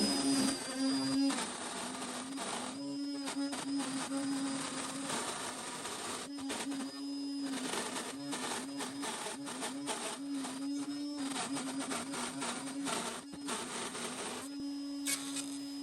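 Small wood router without dust extraction cuts a recessed handle into a wooden drawer front for a 3D-printed pull, giving a continuous close high-pitched motor whine with grinding cutting noise throughout.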